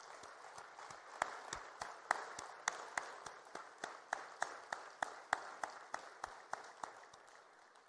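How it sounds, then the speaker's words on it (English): An audience at an African development meeting gives a standing ovation for the President, sharp distinct claps in a fairly even rhythm, rather sparse and fading slightly toward the end. "let's give one more big round of applause to the President."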